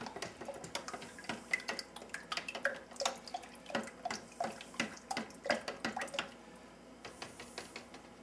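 Water trickles and splashes into a homemade yellow jacket trap baited with sugar, a run of close, irregular drips and pours with small clicks, with no voices.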